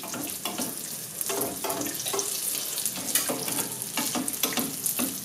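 Pieces of dough fry in a pan of hot oil, giving a dense, steady sizzle with crackling bursts and occasional stirring noises, close and continuous throughout.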